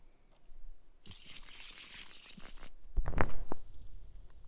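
A stack of trading cards in a tabletop card game is shuffled, giving a quick burst of riffling paper flutter followed by a few sharp taps as the deck is squared, close and moderately loud.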